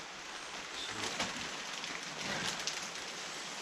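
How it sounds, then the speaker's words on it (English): Steady rain falls outdoors, a dense even hiss with scattered drop patter, moderately loud and continuous, with no voices. "it's bloody raining."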